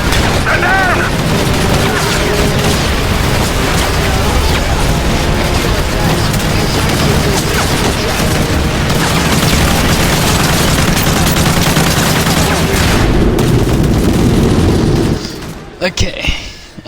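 Gunfire and explosions fill a wet, rainy night battle in Call of Duty: Modern Warfare 3, dense continuous shooting and booms under excited talk, loud throughout before cutting off abruptly near the end.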